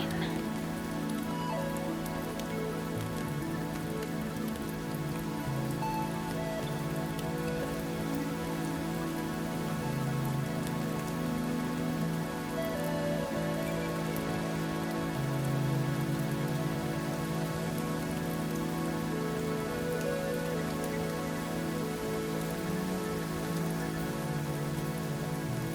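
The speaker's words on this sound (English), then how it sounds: "listen to the rain" Steady rain falls without pause, a dense even hiss of drops on surfaces that stays moderately loud and unchanged from start to finish, with no other sounds standing out.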